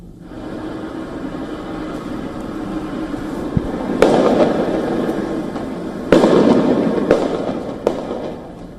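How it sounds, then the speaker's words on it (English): Sharp explosive bangs of flashbangs or firecrackers burst over a steady protest crowd rumble, with two big blasts and a few smaller cracks scattered across the stretch. "sounds of flashbangs or firecrackers were heard exploding"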